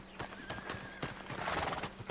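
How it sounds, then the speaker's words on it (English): In Red Dead Redemption, a horse whinnies in a long, rising neigh while hooves clip-clop in quick, irregular beats, fairly faint, with no speech. "Where's my horse?"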